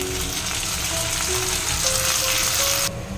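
Spice paste for a Bengali potato curry hitting hot oil, giving a loud, dense, continuous sizzle up close with a few tonal scraping or utensil sounds over it, cutting off near the end.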